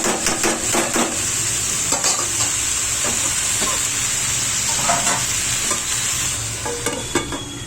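Chopped fenugreek leaves stirred into a fish and tomato curry in a pan: steady loud sizzling with repeated scraping strokes of a spoon against the pan, close up with no talking.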